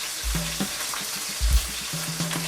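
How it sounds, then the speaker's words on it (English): Cherry tomatoes and vegetables sautéing in a pan for chicken cacciatore, a soft sizzle with a few clinks and stirring sounds, close and fairly quiet. "I'm putting some the vegetables in so they can saute a bit"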